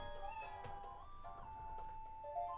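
A cartoon cat meows in the Animal Matchup minigame of Wii Party U, several short, bright meows over soft game music, faint and free of talk.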